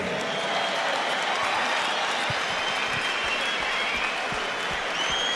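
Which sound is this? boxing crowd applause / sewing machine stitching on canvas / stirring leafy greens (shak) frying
boxing crowd applause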